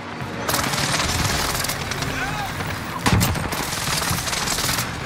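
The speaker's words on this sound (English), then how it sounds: "Taking direct fire." Rapid automatic gunfire from a Warzone Rebirth Island match, dense continuous bursts with a sharper, louder volley near the middle, close and loud throughout.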